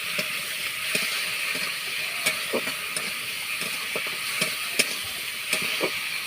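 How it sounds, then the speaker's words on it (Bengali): Prawns fry in a wok over a wood fire, a soft continuous sizzle with intermittent clinks and scrapes of stirring, close and moderately loud with no talking. "চিংড়িটা ভাজা ভাজা হয়ে গেছে, তুলে নেব"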